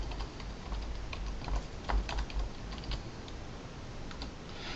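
Steady, close rapid typing on a computer keyboard at a desk while working in MATLAB, with soft key clicks continuing throughout and no talking.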